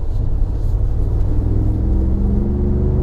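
A 2017 Ford Raptor pickup truck accelerating hard in sport mode, heard from inside as a loud, steady low engine rumble with a slowly rising tone.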